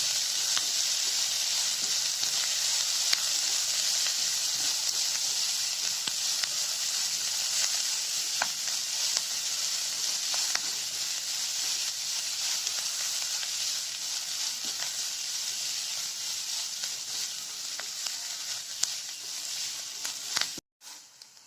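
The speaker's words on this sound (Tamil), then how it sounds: "இது எல்லாத்தையும் சேர்த்து வதக்கிக்கலாம்" Chopped carrot and curry leaves sauté together in a pan, giving a dense, even hiss of frying with faint occasional stirring taps, close and steady for the whole stretch, no voices.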